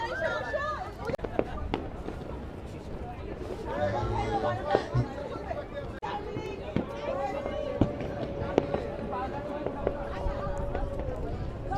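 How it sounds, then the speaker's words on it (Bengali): Fireworks go off across Dhaka at a New Year celebration, seen from a rooftop: a dense crackle of distant and mid-range bursts and pops, with people talking and chattering over it throughout. "চারিদিকে ফায়ার ওয়ার্ক শুরু হয়ে গেছে"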